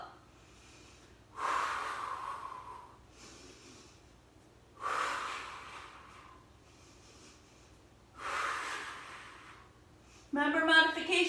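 Paced breathing during a Pilates exercise: three long, steady breath sounds spaced a few seconds apart, each swelling and fading, close to the listener, followed by a brief burst of voice at the end.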